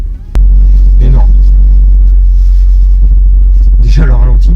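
An Audi RS Q3 Performance with the RS3's 367-horsepower engine idles nearby, giving a loud, steady low rumble. Someone speaks briefly over it.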